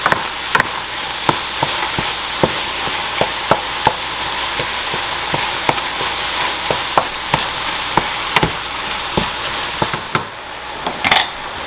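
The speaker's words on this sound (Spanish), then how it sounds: "Y aquí la carne la vamos a freír muy bien." Ground beef sizzles steadily in a hot pan, broken by regular sharp knocks and scrapes of a wooden spatula stirring it, close and loud with no talking.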